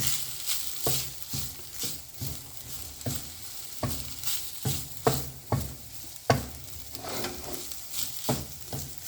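Cooked rice being stirred into shrimp masala in a pan, repeated scraping and stirring strokes at an uneven rhythm over a light sizzle, close and fairly loud.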